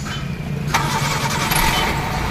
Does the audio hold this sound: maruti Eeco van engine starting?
yes